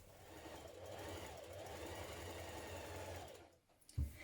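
A sewing machine runs steadily for about three and a half seconds, stitching the back yoke onto a Melba dress, with a continuous close whirring drone before stopping with a brief clunk.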